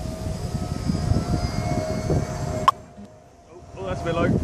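A radio-controlled VTOL model aircraft makes a low flyby, its motor droning loudly before dropping away abruptly and then building again. Voices talk over the engine noise.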